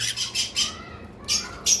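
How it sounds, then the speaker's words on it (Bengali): A pair of green cheek conures give a run of shrill, harsh squawks, about five sharp bursts close by, with faint wing movement between calls. "গ্রিন চিক দুইটাই উড়াউড়ি করতেছে যার কারণে ক্লিয়ার ভিডিও নিতে পারছি না"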